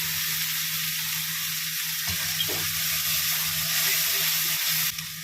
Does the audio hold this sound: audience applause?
no